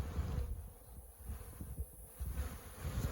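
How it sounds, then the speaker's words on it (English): A swarm of honey bees pouring out of a hive on a honey farm during queen rearing, heard as a steady low buzzing drone that swells and fades in waves, mixed with breezy rustle. "It's like a tornado of bees coming out."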